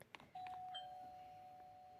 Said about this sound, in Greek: ποιος χτυπάει κουδούνια?